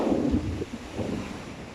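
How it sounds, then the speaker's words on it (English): Surf and gusting wind on the shingle shore at Alum Bay, Isle of Wight, a steady broadband roar with wind buffeting the microphone, heavier at the start and then settling, and no one talking. "Wind's still up, but it's nowhere near what it was like at the top. All down the stairs, there's a decent bit of surf."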